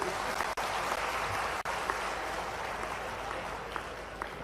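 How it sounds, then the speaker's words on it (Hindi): A crowd applauds Revenue Minister Karan Singh at an official event held in an assembly hall. The clapping is dense and steady, fairly close, and lasts the whole stretch with no voices. "जोरदार ताली तो अच्छी बजना चाहिए करण सिंह जी के लिए"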